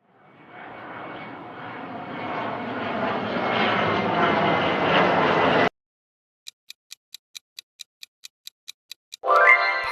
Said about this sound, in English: Passenger jet.